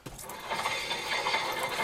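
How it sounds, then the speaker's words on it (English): A Foxbody Mustang brake pad lightly rubs against the rotor as the wheel turns, making a faint, continuous grinding scrape with a slight ratcheting texture, close up and without speech. "what you hear there is actually just the pad touching the rotor touching the pad"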